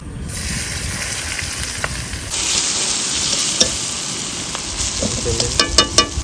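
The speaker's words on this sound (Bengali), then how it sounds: "এবার মাংসটা আমরা রান্না করে নেব। চলো, কড়াইতে তেল দিয়ে নিলাম।" Local duck meat stirred and fried in oil in a wok outdoors, a continuous loud sizzle with scraping spatula strokes and a few knocks toward the end.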